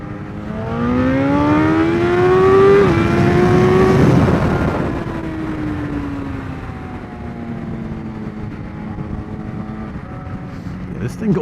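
Yamaha FZ1 motorcycle engine accelerating while riding, a loud rising whine that climbs through the revs, then drops back to a steadier, lower drone as the bike cruises on.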